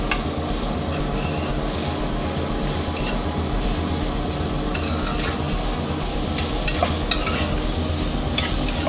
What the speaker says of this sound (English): we're just trying to sweat our onions